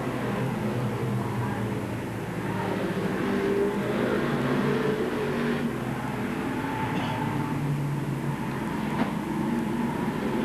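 Stock cars race out of turn 4 at Seekonk Speedway during weekly racing, a continuous roar of engines at a distance, droning steadily with slight swells as the field passes.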